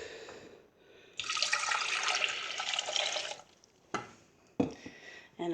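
Hot water poured from a measuring cup into a pan, a steady splashing pour of about two seconds, followed by a few short clinks and sloshes, fairly faint.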